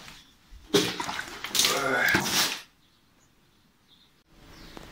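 A short burst of splashing water, loud and close, lasting about two seconds before quiet returns, followed by a faint rustle.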